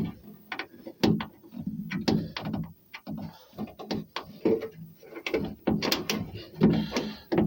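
A ratchet undoes a nut on the window regulator of a Peugeot 306, making quick, close ticking clicks in short irregular bursts with brief pauses between strokes, with no talking.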